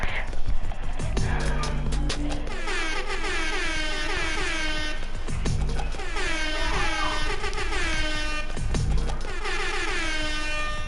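The air horn emote from the Fortnite video game blares in repeated loud, wavering blasts, layered over a busy, rhythmic backdrop throughout.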